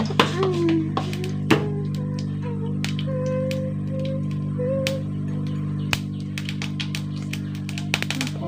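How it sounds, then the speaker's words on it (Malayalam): Mustard seeds crackle in hot oil for a cabbage, carrot and bean stir-fry, with scattered sharp pops and clicks, some in quick clusters, over a steady low hum, close and fairly loud. "കടുക് പൊട്ടട്ടെ"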